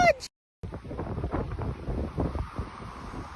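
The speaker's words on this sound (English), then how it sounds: "It's really windy out here!" Strong wind buffets the microphone outdoors on a sandy stretch in Oregon. It makes a loud, continuous rumbling roar that rises and falls in gusts, following a brief cut in the sound.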